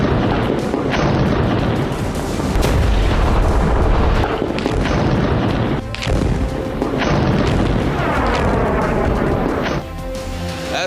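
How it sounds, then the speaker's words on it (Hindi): Bombs exploding in Gaza come as a continuous barrage of heavy booms and rumbling blasts, loud and dense with repeated deep impacts and brief dips between detonations, and no speech. "गाजा पर बम बरस रहे हैं। गाजा की धरती थर्रा रही।"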